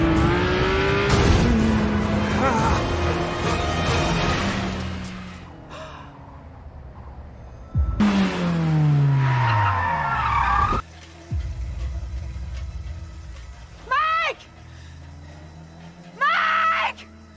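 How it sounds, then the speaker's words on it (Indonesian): Car engine revving and tyres skidding in a chase scene, loud, with sweeping pitch glides and sharp squeals in several bursts, mixed with dramatic effects. "langsung tancap gas untuk mengejar Nick"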